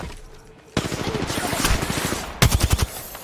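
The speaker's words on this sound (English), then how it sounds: "I'm getting shot at" Gunfire in the video game Apex Legends: a sustained automatic burst of rapid, loud shots, then a short pause and a second quick burst of several close shots.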